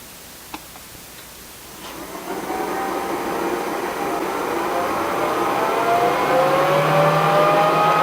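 An xTool Inline Fan 2 spins up and blows hard, its whirring tone climbing steadily in pitch and loudness into a strong, continuous rushing hum, preceded by a few faint ticks.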